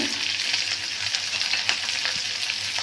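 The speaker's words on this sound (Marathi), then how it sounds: "आता हे सगळं आपल्याला आधी छान परतून घ्यायचं" Onion, green chillies and peanuts sauté in a pan, producing a dense, even close-up sizzle that holds steady throughout with faint stirring movement.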